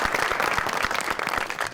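Audience at a live comedy show applauding, a dense, steady burst of many hands clapping close by that carries through the whole moment without a break.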